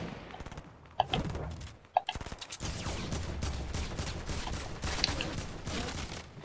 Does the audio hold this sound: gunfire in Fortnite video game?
yes